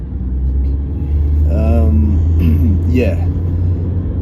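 A nearby car drives past with a steady low engine rumble and road noise that fills the whole stretch, while a person speaks briefly over it.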